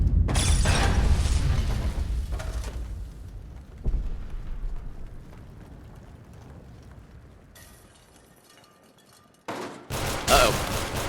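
Rapid gunfire from a gun in the video game Fallout 4, a loud burst that fades, then a brief sharp resurgence of shots near the end.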